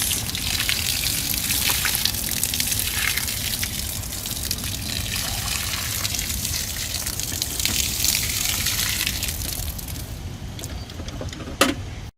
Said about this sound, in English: I'm getting ready to pour the water out.